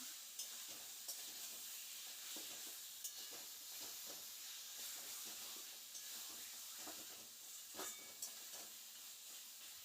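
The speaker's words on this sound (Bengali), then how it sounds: "এই মশলাগুলোর সঙ্গে কিন্তু চিকেনগুলো আমাদের একটু নেড়ে নিতে হবে।" Chicken pieces are stirred with spices for a potato chicken curry in a pan, giving a faint hissing sizzle with soft, regularly spaced scraping strokes of the spoon.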